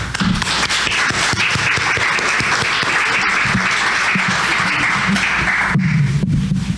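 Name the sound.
audience applauding a guest's welcome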